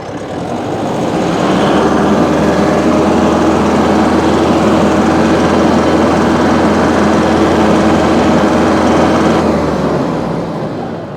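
A Mahindra 5100 series 4x4 tractor engine drones steadily in low gear, loud and close, with a constant low hum running the full length and no talk over it.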